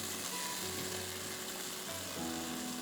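Food fries in a pan with a steady, crackling sizzle that stays close and even throughout, with no talking.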